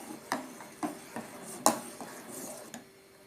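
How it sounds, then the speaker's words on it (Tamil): A utensil scrapes and taps against a metal pot of milk being stirred in a loose, repeated rhythm, several light clinks close up and fairly quiet. "கூட்டி வச்சு கைவிடாமல் அப்படியே கிண்டிகிட்டே இருங்க."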